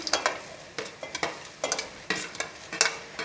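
Peanuts, curry leaves and green chillies being stirred in a pan, repeated scraping strokes in an uneven rhythm over a light sizzle, close and alone.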